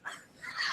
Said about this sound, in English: Dog agrees.